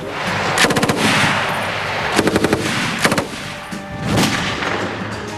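A MAG general-purpose machine gun fires 7.62 NATO rounds in several short, loud, close bursts of rapid shots, with brief pauses between them and no voices.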